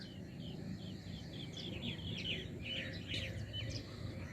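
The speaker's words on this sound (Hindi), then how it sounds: "मुख्तलिफ परिंदों की आवाज़ें बड़ी सुहानी लग रही हैं जी" Various birds sing and chirp among trees in rural Punjab, Pakistan, a string of quick, sharp tweets at moderate distance over a soft, steady outdoor hum.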